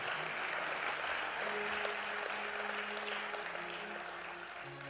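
Sustained audience applause at an evening public event in Jaipur, Rajasthan, a steady dense wash of clapping throughout with faint tonal background sound underneath.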